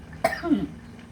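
A single sharp cough bursts out, followed by a rougher, throaty second cough, close and fairly loud, then quiet.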